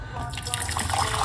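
Hot water pouring from a kettle into a medium-sized pot for parsley and lemon tea, a close, steady liquid stream that builds slightly toward the end, with a voice speaking over it.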